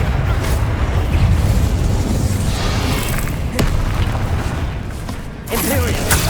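Incendio fire spell in Hogwarts Legacy, a dense roaring burst of flame and booming blasts lasting several seconds, loud and continuous with a few sharp cracks, under a voice.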